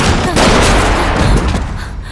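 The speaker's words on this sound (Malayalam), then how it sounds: "ഓടി പുറത്തേക്കിറങ്ങാൻ കതവ് തുറക്കുന്നതും ഒരു വെടി" A gunshot in a dramatic story scene: loud, booming blasts with sharp onsets, followed by a ringing decay in a close, reverberant mix.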